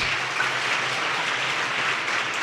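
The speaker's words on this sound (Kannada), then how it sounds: "ಜೋರಾಗಿ ಚಪ್ಪಾಳೆ ತಟ್ರಿ ಅವ್ರಿಗೊಂದು" A crowd at a speech gathering claps steadily and loudly, a dense continuous wash of applause with no talk over it.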